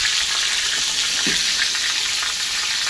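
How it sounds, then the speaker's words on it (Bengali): Whole pointed gourd frying in hot oil in a home kitchen, a steady broadband sizzle that holds evenly throughout at close range, with no voices over it. "দেখো এখনো পটল ভাজা চলছে, এখনো লাল হয়নি।"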